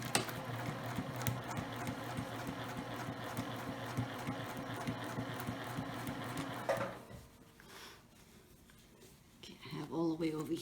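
A sewing machine stitches a travel shoe bag with a steady, fast mechanical whir for about seven seconds, then stops. Quieter handling sounds and a faint voice follow.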